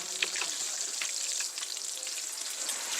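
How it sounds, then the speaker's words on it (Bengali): Fish frying in an electric multi curry cooker, a steady bright crackling sizzle with scattered pops, close and even throughout, with no talk over it. "এটা একটু মাছ ভাজা কিন্তু হয়ে গেছে"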